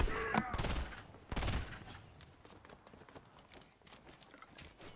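Rapid gunfire in an online battle royale video game, loud bursts of shots up close followed by quieter scattered pops and footsteps, with no talk.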